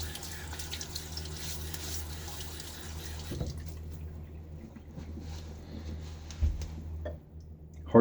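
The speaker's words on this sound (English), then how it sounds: "Water on my face." Water is splashed onto a face at a sink during a wet shave with hard, cool water. It makes a soft, close trickle and splash, with a couple of sharper splashes and drips over a low steady tap noise.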